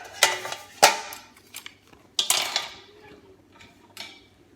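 Two secondhand stainless steel pans are handled close up, knocking and clanking in several separate metallic clatters with ringing decays and quiet gaps between them, and no one speaks.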